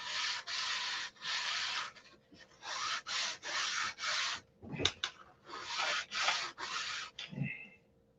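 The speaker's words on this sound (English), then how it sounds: "Let's sand it straight." A wooden I-beam is sanded by hand in steady back-and-forth strokes, a rhythmic rasping scrape repeated in groups with short breaks and a knock midway, close and fairly loud.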